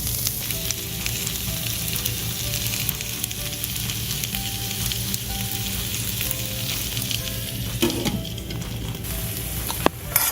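Tofu and zucchini fry in a pan with a dense, steady crackling sizzle, close and continuous, with an occasional utensil clink.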